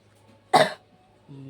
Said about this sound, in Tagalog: Inuubo pa rin ako mga kaiba.